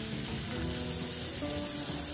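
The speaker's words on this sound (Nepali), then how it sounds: "यसलाई गोल्डन ब्राउन नहुन्जेल मजाले प्याजलाई भुट्नुपर्छ हामीले।" Onions frying in a pan for egg curry, a dense steady sizzle close up with faint stirring, no voices.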